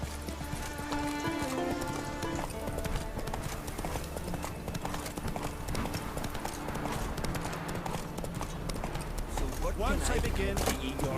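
Horse hooves galloping in The Witcher 3, a rapid, even clip-clop rhythm running throughout under layered game music and ambience, with voices speaking over it in places.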